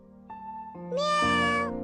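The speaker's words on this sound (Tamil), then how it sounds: "சமத்து பூனைக்குட்டி" A kitten gives loud, drawn-out meows that rise and stretch near the end, heard alone over a steady tonal background with no talking.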